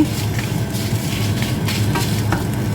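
Spices are dry-roasted in a pan with curry leaves and dried red chillies for Jaffna-style sambar powder, giving a steady close crackle and sizzle with scraping stirs throughout.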